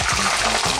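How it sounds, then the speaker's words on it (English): Plantains dropped into hot oil after soaking in salted lime water, giving a brief, loud, continuous sizzle and splatter close by. "Be careful, because as water connects with oil, it tends to splash."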